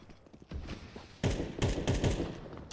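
Rapid automatic gunfire is sprayed through a smoke grenade cloud in a competitive tactical shooter match, sharp repeated bursts that start moderately and grow louder and denser.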